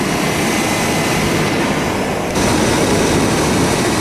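A vehicle engine with battery trouble runs steadily nearby, a loud dense whooshing drone that shifts slightly in level partway through, with no voices.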